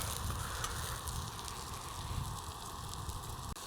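Vegetables frying in a pan over a campfire outdoors in the mountains, a steady, close, crackling sizzle that runs throughout with no talk.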